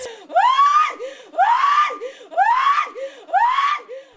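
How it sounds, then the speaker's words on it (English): Anguished wailing of residents mourning after a deadly fire, four loud, rising cries in a steady rhythm, each swelling and breaking off before the next, close by and with no other sound. "screams continued to ring out from residents mourning the tragic loss"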